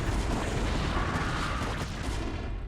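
Siege tanks fire in StarCraft: Brood War during a Zerg versus Terran battle, producing continuous dense booms and blasts that layer over one another without pause.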